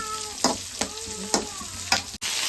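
Whole spices such as cardamom fry in oil for palak pulao, a steady hiss of sizzling with a few sharp scraping stirs spaced through it.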